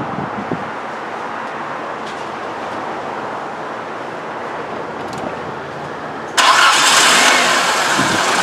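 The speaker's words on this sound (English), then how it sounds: "I will go inside the car and start the engine." Nissan Sentra with a random misfire and bad fuel injectors starting up: after a steady low idle-like background, the engine abruptly catches with a loud jump into a rough, broadband running roar close by.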